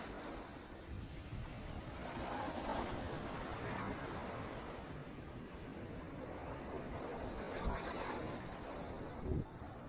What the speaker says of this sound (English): We are out on Fort Lauderdale Beach.